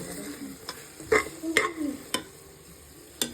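Mint leaves sautéed in a pan for biryani: a gentle sizzle punctuated by a handful of sharp spatula scrapes and taps against the pan, close by, no voices.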